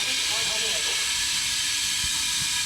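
A hypobaric altitude chamber hisses steadily and loudly as it holds at 8,000 feet, a continuous broad rush of air with faint low rumbles and brief voice-like murmurs underneath.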